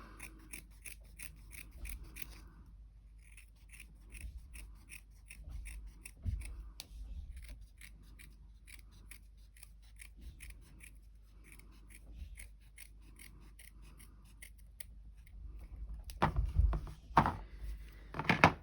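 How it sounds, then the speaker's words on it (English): Scissors snip around thick felt in quiet, closely spaced cuts, pausing now and then, with some louder handling thumps near the end; no voices. "That's really thick felt actually. Hold that on there, cut around that."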